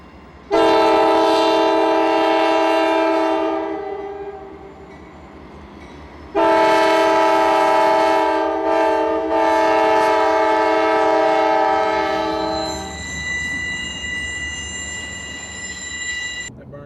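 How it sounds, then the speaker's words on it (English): A northbound Norfolk Southern autorack freight train rumbles past in Austell, Georgia, with two long, loud blasts of its multi-tone horn, then steady wheel noise and a lingering chord of horn tones. "Another northbound rack train, all NS power this time."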